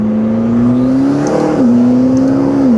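A 2012 McLaren MP4-12C 3.8 Spider in sport mode with manual shifting drops to second gear, its loud, close engine note rising in pitch and then blipping on the downshift.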